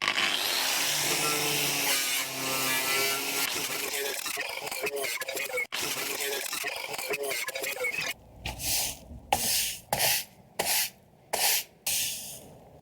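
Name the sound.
grinding rust off a Transit van sill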